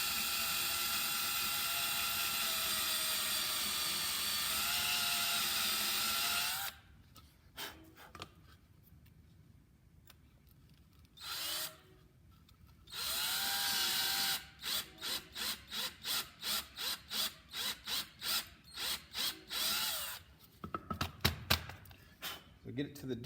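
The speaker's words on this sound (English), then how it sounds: "You don't want to drill all the way through." A power drill whirs in long continuous runs into a brake pad, then in short repeated bursts, with a voice speaking between passes.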